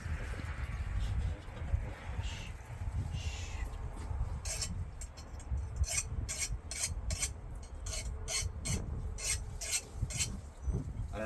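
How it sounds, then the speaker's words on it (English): Hand file rasping across a steel Bowie knife blade, a series of rhythmic scraping strokes growing more regular toward the end, close but fairly quiet over a low rumbling background, no speech. "Is this the kind of file I should be using?"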